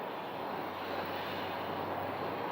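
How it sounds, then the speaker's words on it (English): An Airbus A320 airliner departing Phoenix Sky Harbor airport produces a steady, broad jet engine roar that holds constant and fairly loud throughout, with no talking. "the one that's leaving right now, is headed to Reno. All right, that's an A320."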